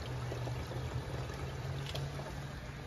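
Water pours steadily into the tank of a Tennant T5 floor scrubber from a hose, a continuous rushing hiss with a low hum beneath, fairly quiet and unbroken.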